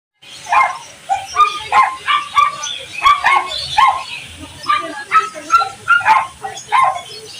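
A dog yips, whimpers and barks in a quick, excited run of short calls close to the microphone, repeated rhythmically throughout with little pause.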